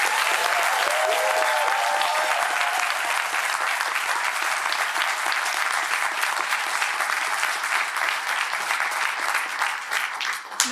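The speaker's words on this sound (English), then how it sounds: "can we give Professor Moorley another round of applause" Audience applause after a university inaugural lecture, a full, steady round of clapping from a large room sustained for about ten seconds before tapering slightly at the end.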